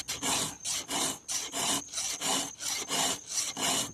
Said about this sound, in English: this isn't the only way there is to file a saw